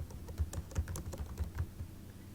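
Quick, light keystrokes tap on a computer keyboard in an irregular burst of clicks, close and fairly quiet, with no voices.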